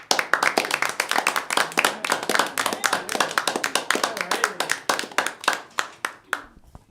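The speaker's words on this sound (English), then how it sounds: "clap hard for Anthony Durante" Sparse, crisp hand clapping from a comedy club audience greeting a comedian, distinct individual claps in a steady patter that thins out toward the end, fairly close.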